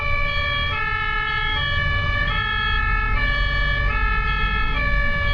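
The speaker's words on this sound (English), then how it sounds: "How loud is this siren?" A German ambulance siren blares nearby in a steady two-tone alternating pattern, loud and continuous, over road traffic rumble.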